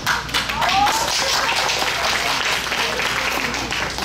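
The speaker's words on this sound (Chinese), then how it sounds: "大家听得很开心的时候，跟着一起拍手一下。" Audience clapping along during a violin duet performance at a Buddhist offering concert, a dense steady patter of many hands lasting throughout, with voices mixed into the crowd noise.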